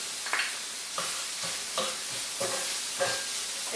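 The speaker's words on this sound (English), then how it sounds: "I'm going to put in my sun-dried cranberries" Sun-dried cranberries being stirred into Madras curried couscous in a pan, with a soft sizzle of frying under about five evenly spaced scraping strokes of a utensil, close up and moderately quiet, with no talking.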